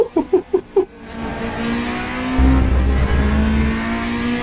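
A race car's wheels locking under heavy braking in the Raceroom sim, with a rapid series of engine or gearshift bursts, then a sustained rising tire scrub and engine drone, loud and close.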